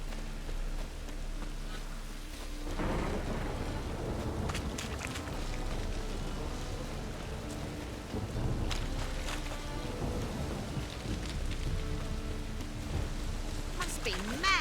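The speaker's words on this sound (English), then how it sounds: "Must be mad running around in this rain." Video game rain in The Witcher 3: steady hissing rain fills the scene, with deep rumbles and occasional heavier splashes rising and falling throughout.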